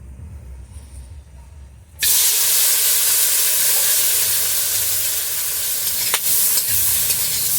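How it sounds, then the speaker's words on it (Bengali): Halved prawns hit hot oil in a wok, and after a quiet start a sudden loud, hissing sizzle bursts out and holds steady, with an occasional sharp spatter; no talking. "আমি কড়াইতে তেল দিয়ে চিংড়ি মাছটা ভেজে নেব এবার।"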